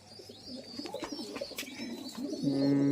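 Pigeons coo close by in soft, throaty warbling calls, with a few chirps mixed in, the cooing growing louder toward the end.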